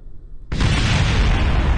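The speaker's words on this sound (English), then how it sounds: "We're gonna have a few explosions for a second." A sudden explosion bursts in the Kerbal Space Program multiplayer game after a quiet moment, then holds as a loud, sustained roar of rumbling debris to the end.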